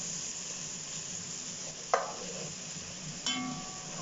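Chopped garlic and ginger fry in oil in a pan for mash dal, a soft steady sizzle with a couple of sharp spoon taps and stirring scrapes, quiet and close.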